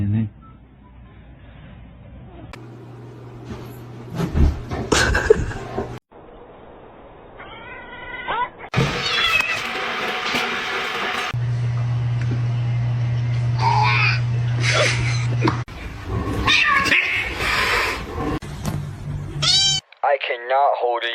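A cat meows and caterwauls in a chaotic run of yowls and drawn-out cries, some loud and close. A human voice mixes in and seems to imitate the meowing, and there are bursts of other noise between the calls.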